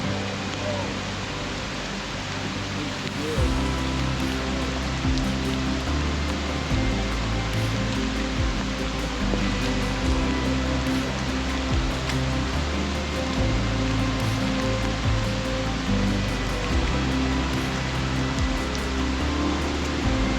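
Small river rapids flow under a bridge along the Endless Wall Trail in New River Gorge, a steady, moderately loud wash of rushing water continuing throughout with a faint murmur of voices beneath it.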